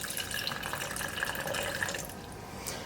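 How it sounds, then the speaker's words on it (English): Water trickles steadily as it is poured into the base of a homemade plastic bottle rain gauge, a continuous close splashing fill without pauses and no voices. "we'll finish the rain gauge by adding water to the base up until the bottom of our orange reference"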